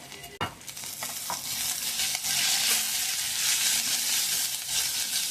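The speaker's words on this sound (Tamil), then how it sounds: "ஸ்லைஸ் அனியன், கறி லீவ், சால்ட் போட்டு வதக்கிக்கோங்க." Sliced onion, curry leaves and salt sauté in a pan, starting with a clatter and then building into a loud, steady, hissing sizzle up close.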